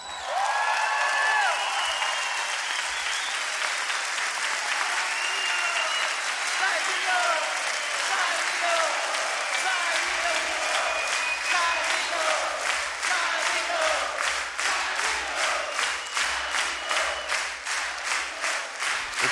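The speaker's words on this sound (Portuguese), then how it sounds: "Somente um grande artista mereceria um aplauso de pé de um teatro lotado como esse." A packed theatre crowd at a live concert gives a standing ovation, sustained dense applause that continues throughout and grows into rhythmic clapping toward the end.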